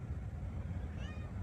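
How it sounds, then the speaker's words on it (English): A house cat gives one short, faint meow near the end, over a low indoor hum. "You might hear my cat meowing."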